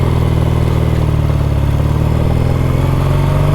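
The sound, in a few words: Triumph Bonneville T140V motorcycle engine idling high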